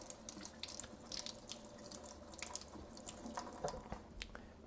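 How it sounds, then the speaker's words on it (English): Water runs and splashes faintly over tomato seeds in a mesh strainer as they are rinsed, with a soft, steady trickle and scattered drips. "Give the seeds a good rinse."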